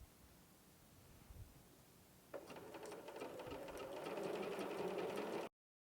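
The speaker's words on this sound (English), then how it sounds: "I'll show you how we use the sewing machine to stitch the ends together" Sewing machine stitching the ends of a fabric tube, quiet at first, then a steady rapid whirring stitch that starts abruptly and runs alone for several seconds before stopping.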